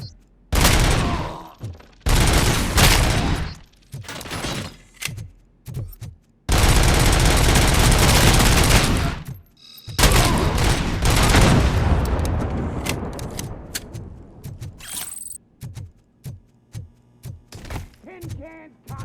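Bursts of gunfire and heavy impacts from the first-person shooter video game Robocop: Rogue City, loud and close, with rapid volleys, pauses and booming thuds, with shouted voices mixed in.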